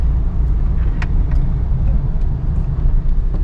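Traffic on a mountain ghat road near Kaas in Satara, Maharashtra, rolls past as a constant low roar of car engines and tyres, with faint scattered clicks and no talking.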